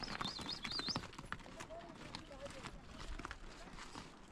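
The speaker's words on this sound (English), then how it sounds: "Got a train of some donkeys and mules here." Hooves of a train of pack donkeys and mules on a mountain trail toward K2 base camp, a steady irregular clip-clop close by with people talking over it.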